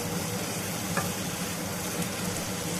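Pepper paneer fry stirred in a hot pan, a steady dense sizzle with faint scraping of the spoon, continuous and close, with no talking.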